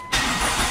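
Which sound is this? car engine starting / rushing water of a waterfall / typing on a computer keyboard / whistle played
car engine starting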